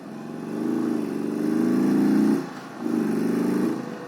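An Indian Super Chief Limited motorcycle engine heard while riding on a hot day, a deep, steady, throbbing rumble that briefly drops and then returns, with no talking.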